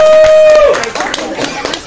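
Guests at a sangeet ceremony break into a burst of clapping after a brief sustained tone, the claps a loose, quick patter of many hands that continues to the end.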